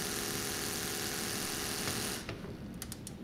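Small electric propellers on an autonomous blimp whir steadily at full throttle, a close, continuous motor hum that drops away abruptly near the end, leaving a few faint clicks.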